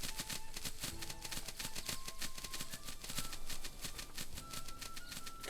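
Peasants in the Manor Lords village game harvest vegetables, producing a rapid, dense run of crisp clicks and taps like typewriter keys, steady throughout with faint tonal blips over the top.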